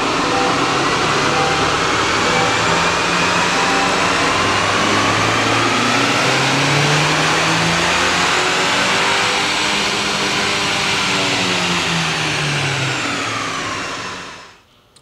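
A Chevrolet Silverado pickup with the 2.7-liter engine and a performance tune revs hard on a chassis dyno, a loud sustained roar climbing steadily in pitch, then cutting off abruptly at the end.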